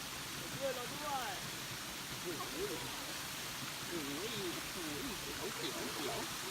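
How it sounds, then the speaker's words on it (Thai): The Manora waterfall gives a steady broadband rush of falling water, while voices talk over it throughout. "มาดู น้ำตกมโนรา"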